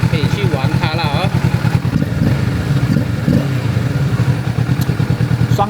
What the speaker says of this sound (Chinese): 双缸的声音